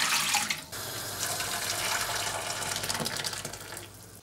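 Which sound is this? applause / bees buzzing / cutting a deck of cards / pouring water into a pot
pouring water into a pot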